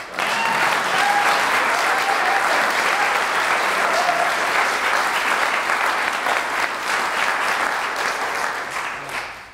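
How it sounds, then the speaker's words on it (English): An audience at a senior music recital gives steady, full applause that continues evenly for several seconds before tapering at the end. "I'd like to give a round of applause"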